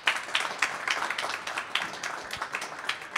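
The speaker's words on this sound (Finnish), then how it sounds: "Ja mahtavat aplodit" A seminar audience applauds with steady, moderately loud clapping from a small crowd, lasting a few seconds.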